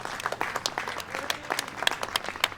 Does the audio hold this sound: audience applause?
yes